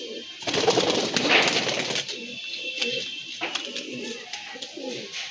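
Pigeons coo in a loose, uneven chorus, moderately close and mixed with broadband rustle and scattered clicks. The male fancy pigeons include red-gravel and yellow-eyed birds, some restless from fighting. Occasional brief calls overlap.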